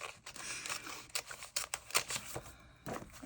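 Scissors cutting paper: several crisp snips and paper rustles come in an irregular run, close by and fairly quiet, with short pauses between cuts.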